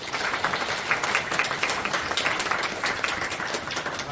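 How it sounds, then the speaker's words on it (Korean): Steady applause from a congregation at a church prayer service, a dense, even patter of many hands clapping throughout, with no talk. "주승중 목사님께 다시 한번 감사의 박수를 부탁드리겠습니다."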